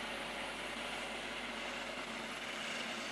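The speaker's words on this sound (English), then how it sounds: "The helicopter is currently hovering at about 50 meters for the rescue team to be inserted behind enemy lines." A military helicopter hovers at a parade display, its steady broadband rotor and engine roar constant and unbroken, faint and distant throughout.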